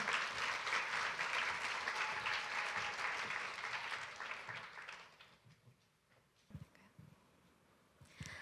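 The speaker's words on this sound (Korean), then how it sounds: "박수 맞아주세요" Audience applause at a university changemaker forum in Korea, a dense crowd clapping steadily for about five seconds before thinning out into a few scattered claps.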